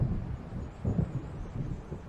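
Low rumbling thunder of an approaching storm in the Alan Wake video game, a faint, continuous roll with soft swells and no voices.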